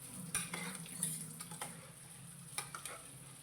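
A spoon stirs mutton masala in a cooking pan over low flame, giving close, repeated scraping strokes with a few sharper knocks against the metal and a soft sizzle underneath.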